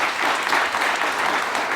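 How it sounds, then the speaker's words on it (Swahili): Audience applause at a Kenyan political rally, a dense, steady wash of many hands clapping together, fairly loud and sustained throughout without a break. "Hebu tumpigie makofi."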